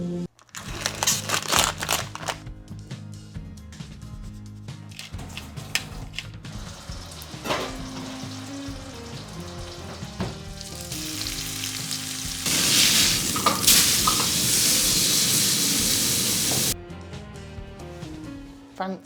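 Expensive steak fries in a pan with a bright, continuous sizzle that swells louder partway through, near and alone, with light clinks of handling in between.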